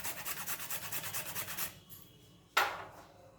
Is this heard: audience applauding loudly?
no